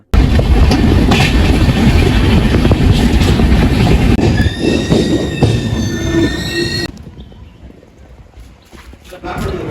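A passenger train pulls into Gokarna railway station with loud, sustained wheel squeal and rumbling carriages, the screech fading as it slows to a stop amid platform voices.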